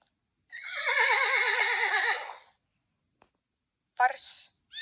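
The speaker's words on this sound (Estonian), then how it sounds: "Mära." A mare whinnies in one long, loud wavering neigh, followed after a pause by a shorter snorting call, on a children's talking animal-picture learning toy.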